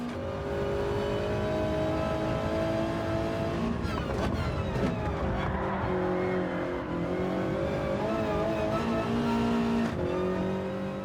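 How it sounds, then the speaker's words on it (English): Onboard engine and transmission sound of a Toyota 86 Gr.4 race car in Gran Turismo 7, with a distinct whining tone that rises and falls with gear changes over a continuous loud engine roar. "So very noticeable transmission whine in this car, and I absolutely love it."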